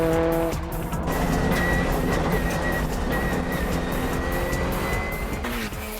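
A four-wheel-drive Subaru Impreza race car on a track gives a loud, sustained engine roar with squealing tires, close and continuous and rising in pitch with throttle.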